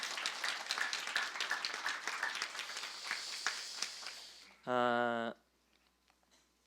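Church congregation applauding a young adults' group, a dense spread of claps swelling for about four seconds before fading, then a short loud harmonic tone cuts in and leaves near-silence.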